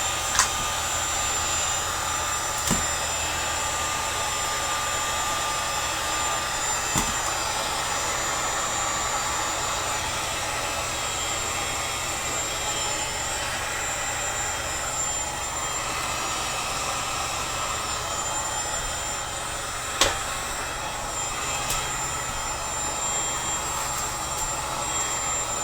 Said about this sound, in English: Just another quick blast of heat.